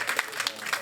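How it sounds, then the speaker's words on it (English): A school board meeting audience gives student performers a brief round of applause, a short spell of scattered clapping under speech. "Let's give them one more round of applause."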